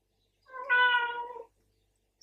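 A single cat meows once, clear and fairly close, a drawn-out tonal call lasting under a second in an otherwise quiet room.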